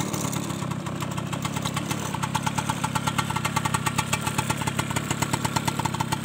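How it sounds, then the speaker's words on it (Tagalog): A motorcycle engine warming up idles steadily with a rapid, even putter, running alone without any talk. "Painit lang tayo ng makina saglit"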